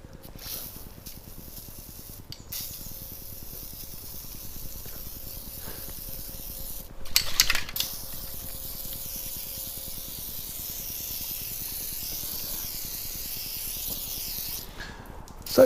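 Steady hissing spray from an aerosol can of ACF-50 anti-corrosion spray being applied to a VW Up! GTI runs almost continuously, fairly close, with a brief louder burst midway and short pauses.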